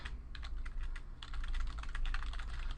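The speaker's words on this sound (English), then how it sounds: "I'm just typing stuff in here so you can see that" Steady run of quick keystrokes on a computer keyboard, close and fairly quiet, with irregular clicking bursts and no voices.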